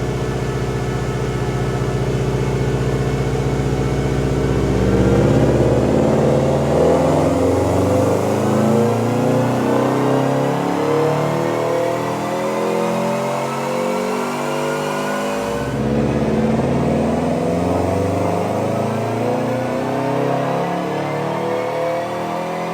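A Subaru Baja's engine revs up loud and close at a tuning shop, climbing in rising sweeps and dropping back, then a second rev run starts near the end with a high whine over it.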